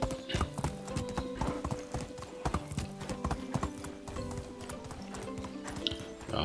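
Horse hooves clip-clopping steadily in Medieval Dynasty, a rhythmic run of close, crisp hoof strikes with an occasional faint whinny, no talk over it.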